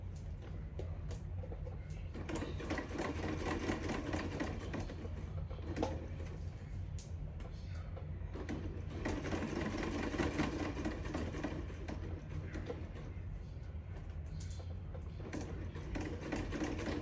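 A sewing machine stitches buttons, lace, ruffles, word appliqués and zigzag trims onto scrappy fabric belly bands, giving a steady mechanical whir and rapid needle chatter that runs continuously with small shifts in pace.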